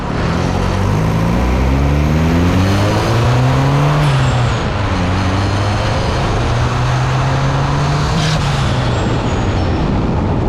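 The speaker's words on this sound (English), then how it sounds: "and then we're gonna do another test drive." A 1997–2001 Honda CR-V (RD1) with billet torque mounts fitted, driving on a road test; steady engine and road noise fill the cabin, with a low tone that rises and falls as the vehicle accelerates and shifts.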